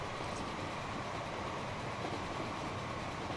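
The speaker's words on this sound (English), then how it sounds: "the New York Central J3 starting to pull away there" A New York Central J3 steam locomotive pulling away in the Transport Fever video game, heard as a continuous dense rumble of rolling train noise with no pauses.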